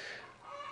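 A chicken gives a single brief cluck, close and fairly quiet.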